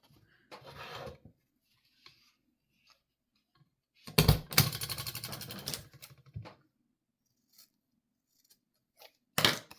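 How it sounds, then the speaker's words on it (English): Scissors cutting off the corner of a small stapled paper notebook at an angle, heard as a short snip, a longer close crunchy run of cutting, then a final sharp snip, separated by quiet stretches. "And then we'll just cut that off at an angle."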